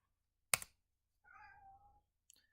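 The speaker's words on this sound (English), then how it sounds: "My kitties are really being noisy." A pet cat gives one soft, drawn-out meow in a quiet indoor room, set between a sharp click before it and a few faint clicks after.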